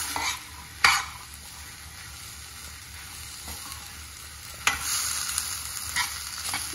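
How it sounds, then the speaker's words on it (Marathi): Onion masala paste with black chana for Maharashtrian usal stirred and sautéed in a pan, a steady close sizzle with a few sharp scrapes and clinks of the spoon against the pan. "पुन्हा आता व्यवस्थित आपल्याला हे परतून घ्यायचं आहे, जेणेकरून कांदा मसाल्याचं वाटण सर्वत्र लागेल"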